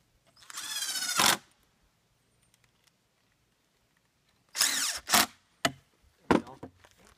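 A T-Rex rotary table saw squares off the end of an 8x8 timber beam in bursts: a loud, rising cutting whine, then a long silence, then several sharp cutting bursts spaced apart.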